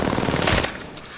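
A short burst of rapid Pinger SMG fire in Apex Legends, loud and close, cutting off abruptly after about half a second.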